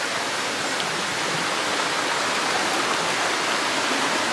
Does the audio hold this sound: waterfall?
yes